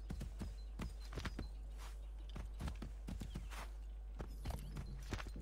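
Horse hooves clip-clopping in Assassin's Creed 3, a steady series of close, clear hoofbeats over a constant low game background hum.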